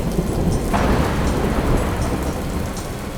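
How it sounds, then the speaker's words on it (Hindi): Heavy rain pours steadily during a thunderstorm at night, with a low rumble of thunder rolling under the constant hiss of falling water. "बहुत तेज बारिश हो रही थी और बिजली कड़क रही थी।"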